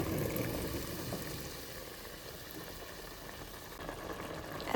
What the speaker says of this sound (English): Now it is our gravy is also boiling here.